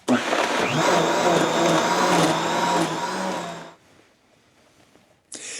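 A blender blending ginger for kava runs loud and steady with a dense whirring roar for several seconds, then stops into near quiet before a brief sharp noise at the end.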